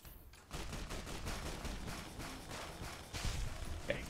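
Gunfire in Fallout: New Vegas with the Boulder Dome mod, a fast rattle of shots repeating through the whole clip at moderate volume, with no talk over it.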